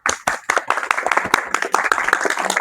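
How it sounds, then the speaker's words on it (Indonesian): Students clapping their hands together in a classroom after a pencak silat kicking lesson, a close, uneven patter of individual claps from a small group, loud and continuous. "Oke, tepuk tangan semuanya"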